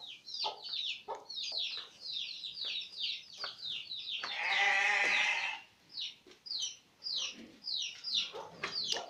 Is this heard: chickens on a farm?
yes